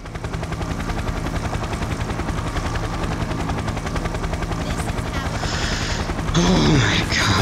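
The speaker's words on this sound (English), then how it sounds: "Get into the chopper!" Helicopter rotor in the Payday 2 White House heist: a steady, loud chopping drone throughout, with gunfire-like bursts and a voice briefly rising near the end.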